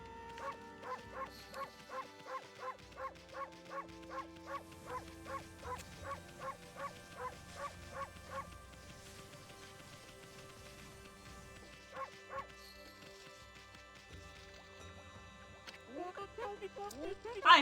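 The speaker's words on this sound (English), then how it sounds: "I can just bark!" A dog character in the video game Okami HD barks in a fast, regular series of short yips over soft game music, followed later by a few scattered barks and a rising whimper-like sound.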